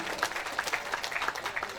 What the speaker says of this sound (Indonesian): tepuk tangan juga untuk beliau